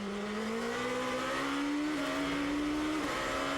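A 2007 GP2 race car with a Renault-based 4-litre V8 screams at Bahrain, its tonal engine note climbing steadily with two quick gear-change dips, loud and continuous with no voices.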